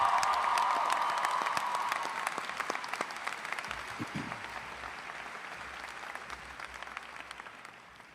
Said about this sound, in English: Please give Mr. Pavone a round of applause